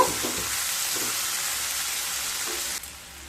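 Tomato and onion frying in a pan for an egg and poppy-seed dish, giving a loud, continuous close sizzle with faint stirring underneath that drops slightly in level near the end.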